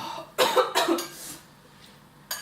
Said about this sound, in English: we're not going to the ER, so stop coughing